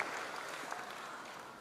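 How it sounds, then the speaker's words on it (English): An audience at a college freshers' induction program gives a brief, steady round of applause to welcome the dignitaries, close and even throughout. "We request all to invite our dignitaries with a warm round of applause."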